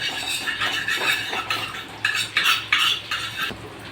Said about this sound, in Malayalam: ഒരു സ്പൂൺ കൊണ്ട് ഇതെല്ലായിടത്തേക്കൊന്ന് ആക്കുക.